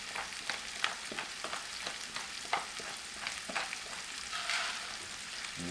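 Carrots frying in a hot pan with salt and pepper, a steady close sizzle broken by repeated clicks and scrapes of stirring, no voices.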